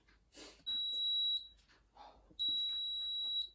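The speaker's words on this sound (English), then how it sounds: "It's beeping. It's finished." Two long, shrill electronic beeps from a kitchen appliance, each about a second long, separated by a brief gap with faint rustling.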